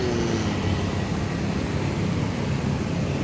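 A Pelangi tour bus passing on a road, a steady broadband rumble of engine and tire noise that stays even and moderately loud for a few seconds, with no voices.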